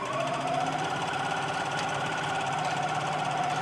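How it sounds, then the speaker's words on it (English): Sewing machine running a steady straight stitch along a fabric side seam of a wrap skirt, a continuous fast mechanical whir at an even level throughout. "I'm just gonna do a straight stitch down each side using a 1/2 inch seam"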